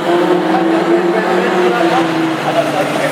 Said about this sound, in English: Huey Weaver, the very sickly sounding car, finishing in 4th